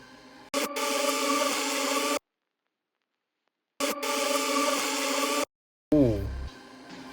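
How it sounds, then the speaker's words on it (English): A dense, smeared dark trap musical sample, pitched down and reversed, plays in two bursts separated by silence, with a swelling, backward-sounding texture, followed by a brief falling tone. "I also pitched it down and I reversed it,"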